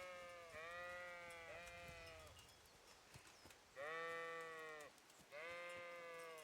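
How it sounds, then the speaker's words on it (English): Sheep bleat in the medieval role-playing game Kingdom Come, three drawn-out wavering calls spaced a second or so apart against a quiet outdoor ambience. "I'm gonna try to shepherd these sheeps"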